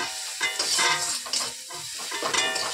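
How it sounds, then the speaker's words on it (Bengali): Shrimp and Malabar spinach spice paste with cumin fries in a pan, a steady sizzle broken by repeated scraping stirs of a utensil against the metal. "তো মশলাটা একটু ভালো করে কষে নিলাম"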